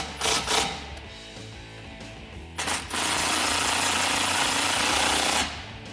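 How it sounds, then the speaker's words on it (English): Allen head bolts on a 2015-2019 F150 K3 light roll bar being tightened with a 5/32 Allen head socket: a few short rattling power-tool bursts, then one sustained loud buzzing run before it stops. "we're going to tighten down all of those Allen head bolts, again using our 5/32 Allen head socket"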